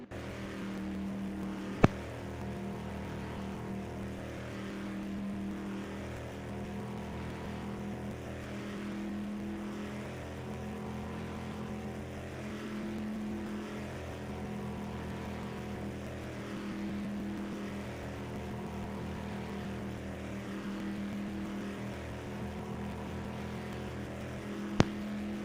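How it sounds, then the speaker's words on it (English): Race car engine droning steadily through an onboard lap at Texas Motor Speedway in an Xfinity racing video game, a continuous loud hum with stable pitch and no talk over it. "We'll actually hop on board with Davo. He'll take you for a lap here around Texas Motor Speedway."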